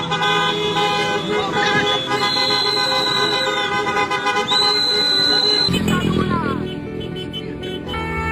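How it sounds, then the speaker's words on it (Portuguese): Car horns honk repeatedly at a street protest against tyranny in Porto Alegre, Brazil, with long sustained toots and shorter blasts layered over loud crowd and traffic noise. "o pessoal tá buzinando"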